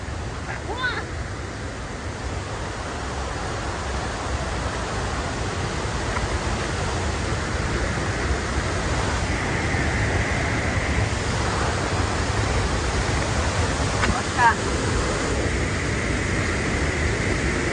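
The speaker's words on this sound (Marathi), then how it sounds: "इकडे बघा बाबा अख्ख्या वाफा इथपर्यंत उडतात या पाण्याच्या" Kondeshwar waterfall roars in a dense, steady wash of falling water and spray, loud and continuous throughout, with faint voices now and then beneath the rush.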